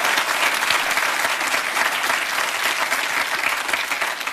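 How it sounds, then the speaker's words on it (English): A game show studio audience applauds for a contestant, a dense, steady roar of clapping held throughout at close range with no break. "Give him a big round of applause"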